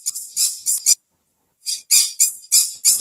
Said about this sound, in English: First thing we hear is birds chirping.